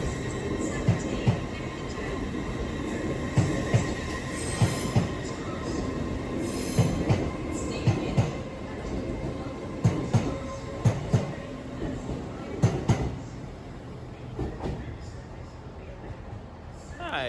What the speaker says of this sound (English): as our train pulls away, it whizzes up to Edinburgh